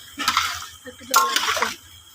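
Water poured in two short splashing bursts while cooking aloo matar ghugni, close and moderately loud, with a voice speaking around it.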